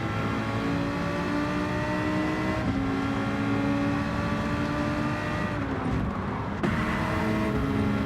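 Race cars in the Gran Turismo 7 video game hold a steady, loud engine drone with layered whining tones, shifting pitch briefly as cars jostle, continuous and without talking.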